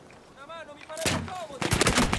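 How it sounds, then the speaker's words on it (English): Gunfire in the shooter game Battlefield 1, a burst of loud rapid shots arriving after a brief spoken voice, with dense crackling fire continuing to the end. "Oh, I got shot from all directions."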